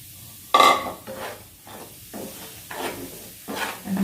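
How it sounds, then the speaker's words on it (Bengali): Semolina is tipped into hot ghee in a pan and stirred, producing several distinct scraping strokes with a soft sizzle underneath, close and moderately loud. "তো এখন আমি ঘিয়ের মধ্যে দিয়ে দেবো এই যে সুজিটা।"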